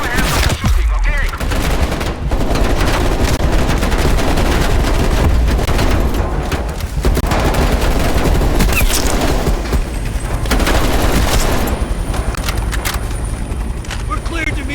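Continuous heavy gunfire from a helicopter in Call of Duty: Black Ops Cold War, loud and sustained with rapid bursts and booms over rotor rumble, while voices talk over it.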